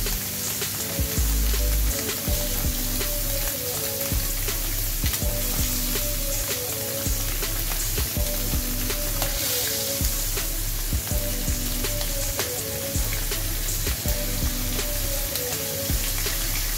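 Mullan fish fries in well-heated oil with a loud, dense, crackling sizzle punctuated by steady pops and spatters, continuous for the whole stretch with no talking.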